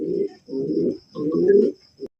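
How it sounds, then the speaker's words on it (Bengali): Pigeons at a pigeon market give three drawn-out, throaty coos in a row, close and clear, followed by a short fourth note. "আরো এক জোড়া কালারিং গোল্লা কবুতর দেখতেই পাচ্ছেন"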